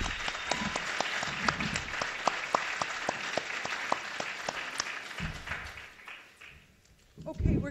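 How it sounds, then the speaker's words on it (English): Audience applause at a panel discussion on war, peace and global justice, a steady roomful of clapping with sharp individual claps standing out, fading toward the end as a voice begins to speak. "Give her a round of applause, please."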